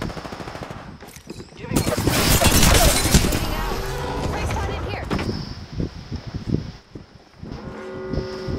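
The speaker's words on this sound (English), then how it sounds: "I am taking fire" Rapid automatic gunfire rattles through a firefight in the video game Apex Legends, with loud bursts and impacts rising and falling, then scattered shots, while a voice talks over the action.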